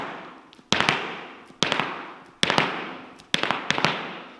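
Irish dance Flatley rolls in hard shoes give sharp clattering foot taps in quick clusters of two or three, repeating about every second with a short ringing decay after each burst, with no talking.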